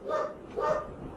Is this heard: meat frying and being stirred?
no